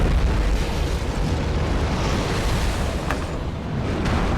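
A Fire Tempest pyromancy explosion in Dark Souls 1 roars as a loud, sustained broadband rumble, like a continuous blast of flame and debris with no speech.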